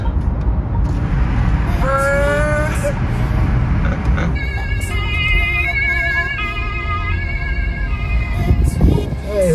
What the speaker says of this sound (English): the siren with a sore throat